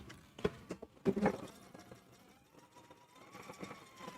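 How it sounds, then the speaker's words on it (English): A sewing machine runs in short bursts while stitching the seam allowance on a quilted piece, quiet and close, with a few clicks and light handling noise around it. "I'm going to go to my machine, and I'm going to go ahead and stitch the seam allowance"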